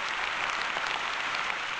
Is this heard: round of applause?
yes